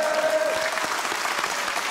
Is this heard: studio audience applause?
yes